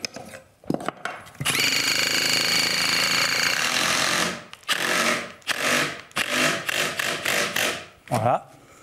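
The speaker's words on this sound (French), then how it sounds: "Et puis je vais pouvoir visser mes vis sans problème." A power screwdriver drives screws into a roof batten in loud, close bursts, one long run followed by several shorter ones with brief pauses between.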